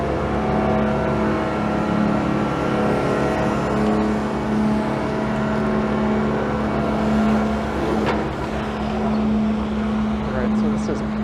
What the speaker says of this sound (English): there's often a lot of really fast-moving traffic going through here